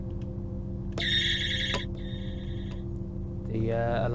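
Inside the cab of a DB BR 612 tilting diesel train in a driving simulator game, an electronic alarm tone sounds in two bursts over a steady engine hum, followed by a brief rising tone.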